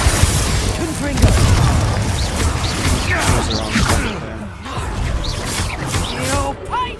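Spell-blast explosions and booming impacts in Hogwarts Legacy during a fight, dense crashing bursts mixed with shouting voices throughout.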